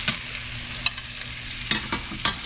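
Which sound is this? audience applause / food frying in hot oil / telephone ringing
food frying in hot oil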